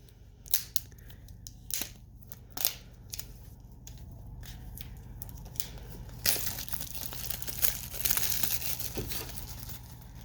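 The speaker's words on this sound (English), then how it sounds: "All right, so let's unbox it." AirPods Pro packaging being opened up close, with sharp crinkles, tearing and rustling of paper and plastic, scattered snaps early on, then denser crackling and shuffling handling noise.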